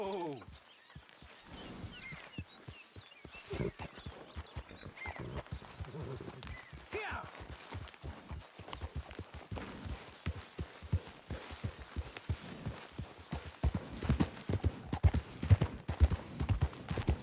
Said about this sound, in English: Your horse is so tiny, Lenny.